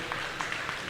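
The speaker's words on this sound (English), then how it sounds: "let's give these exhibitors one more round of applause" Audience applause for youth showmanship exhibitors at a cattle show ring in Regina, a brief burst of steady clapping from a crowd, moderately loud and continuous.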